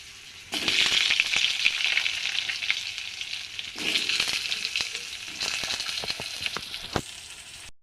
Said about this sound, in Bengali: আলুগুলো ভেজে তুলে নিই মাছ ভাজার তেলে।